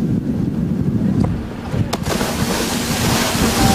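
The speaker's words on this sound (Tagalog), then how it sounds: "Malalaking alon ng sinagupa ng aming sinakyang barko." Big ocean swells strike the hull of a ship at sea, giving a continuous wash and surge of water with rushing wind across the microphone and a few sharp slaps.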